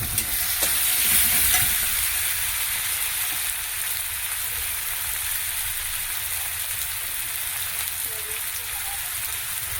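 Ground spices with red chili powder, coriander and cumin fry in a pan with a steady, close hiss and sizzle, with a brief brighter burst near the start and faint stirring throughout.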